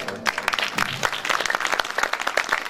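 An audience applauds throughout at a mushaira (poetry gathering) held during an urs festival, with dense, continuous clapping from a sizeable crowd and fairly close and loud.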